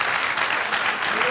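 A church congregation claps together during a sermon, a dense, loud burst of many hands that fills the short moment with steady intensity.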